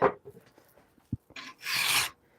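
A hand-forged Bowie knife blade is hand filed in a few short rasping strokes, the last one longer and brighter, close and fairly quiet with small knocks in between.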